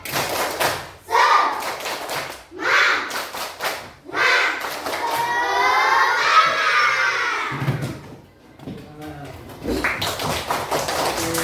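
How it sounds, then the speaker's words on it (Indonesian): Schoolchildren in a classroom perform a rhythmic spirit clap, sharp bursts of clapping in counted patterns alternating with loud group chanting and shouting, close and energetic, followed by an adult voice speaking. "Tepuk semangat."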